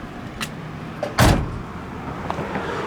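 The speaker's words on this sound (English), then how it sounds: "The door just shuts with ease." A 1963 Ford Galaxie 500 door swings shut with one solid thump near the middle, fairly close. A few faint clicks and light handling noises come before and after it.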